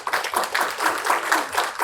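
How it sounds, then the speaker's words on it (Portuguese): An audience at a solar energy industry conference applauds, giving a brief burst of steady, moderately loud clapping from many hands with no voices over it. "Palmas para ele."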